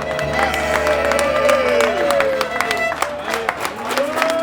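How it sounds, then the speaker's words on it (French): An audience at the Tuileries funfair applauds and cheers, dense continuous clapping with whoops and overlapping voices close by. "Ah, on applaudit discrètement, nous"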